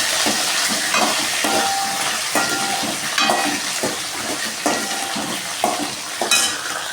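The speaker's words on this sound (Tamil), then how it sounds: "அந்த கத்திரிக்காய் அந்த எண்ணெயில் போட்டு கொஞ்சம் வதக்கிக்கலாம்" Brinjal pieces sautéing in hot oil for a broad bean tamarind curry give a steady, close sizzle with repeated scraping stir strokes, no voices.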